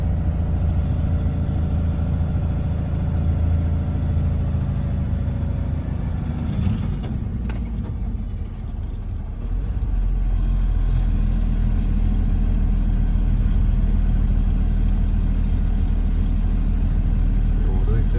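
A BharatBenz 4832 16-wheel truck engine rumbles loudly and continuously nearby, deepening as it revs up partway through, with a voice speaking briefly over it.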